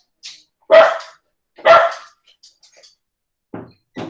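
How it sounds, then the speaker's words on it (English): A dog barks twice, close and sharp, then gives a few softer yips and quiet noises with gaps of silence between them. "My dog."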